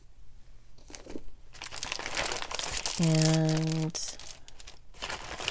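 Crinkling and rustling come from an envelope stuffed full of craft supplies as it is handled up close, with steady crackles throughout and a short tonal beep in the middle. A person says a word briefly.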